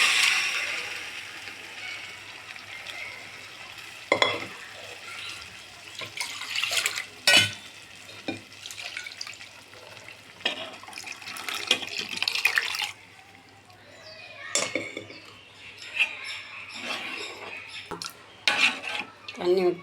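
Water is poured into cooked dal with sautéed onions in a home kitchen, splashing amid sharp clinks and clatters of pots and utensils, with intermittent bursts and quieter gaps.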